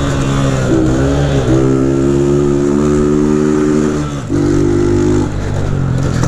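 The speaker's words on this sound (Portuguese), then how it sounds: "esse carburador dela tá zoadão, tipo, agulha segurando a lenta." A motorcycle engine with a faulty carburetor and a needle holding the idle revs loudly and close by, climbing and holding its pitch, dipping briefly, then revving again, with no talk.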